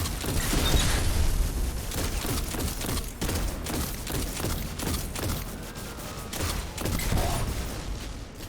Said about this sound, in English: the way the shots work from the Hydra, he may shake your screen, but he actually can't hurt you